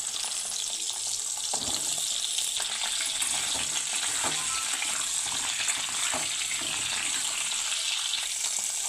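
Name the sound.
drumsticks frying lightly in hot oil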